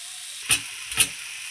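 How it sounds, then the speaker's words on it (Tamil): Curry leaves being stirred and sautéed in a green gravy, heard as two short sizzling scrapes about half a second apart over a steady faint hiss. "கருவேப்பிலை ஆட் பண்ணதுக்கப்புறமா நல்லா கிளறி விடுங்க நல்லா வதங்கட்டும்"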